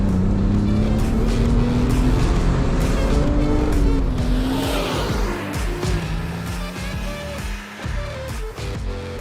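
A BMW Z3 roadster drives with a steady engine drone and rising, shifting gear tones, loud and close from inside the car, then eases off as it slows and pulls over, with tire and road noise underneath.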